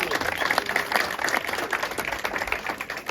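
An audience at a school Christmas party talent show applauds young performers with dense, steady clapping that fills the whole stretch at a constant level, with voices mixed in.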